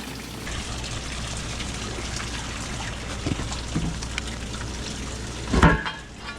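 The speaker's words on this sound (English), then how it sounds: "Water's flowing nice." Rainwater flowing through an open French drain: a soft continuous trickle and gurgle at low level, with a brief louder splash near the end and no talk.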